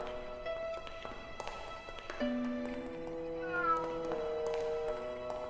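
Cat meows from the video game Grim Fandango, several tonal calls rising and falling over a soft background, one longer drawn-out meow near the middle, fairly close and clear.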